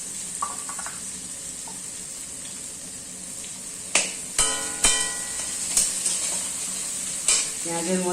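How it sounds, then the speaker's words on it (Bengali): Chopped onions frying in hot oil with shahi jeera for a Bengali-style potol korma: a steady close sizzle broken by several sharp knocks and scrapes of a spatula stirring against the pan. "এবার পেঁয়াজটাকে একটু ভেজে নেব।"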